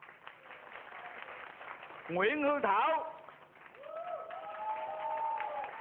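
A crowd applauds semifinal contestants gathered on stage at a singing competition. A loud announcer speaks over a steady bed of clapping that briefly gives way to his voice, then returns under further speech.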